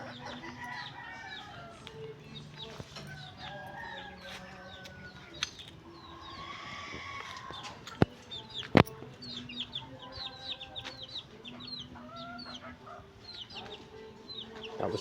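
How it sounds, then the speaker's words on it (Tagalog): Chickens and small chicks clucking and cheeping in a backyard, a busy layered chorus of soft clucks and high peeps throughout, with a few sharp knocks in the middle. "Tapos ito yung mga sisiyo natin o."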